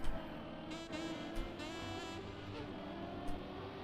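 Race car in the video game Trackmania on a Pikes Peak remake, engine whining at full speed with a steady high-pitched tone and a few sharp transients, fairly faint and continuous.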